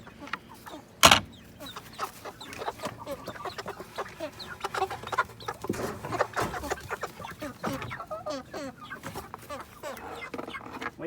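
Meat chickens cluck repeatedly at close range in a backyard flock, a steady stream of short, overlapping calls with one sharp loud burst near the start and scattered rustling throughout.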